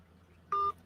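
A flaky high-definition phone sounds a single short electronic keypad tone, lasting about a fifth of a second, over a quiet low hum, while someone is failing to hang up a call.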